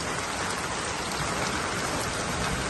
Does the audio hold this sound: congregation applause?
no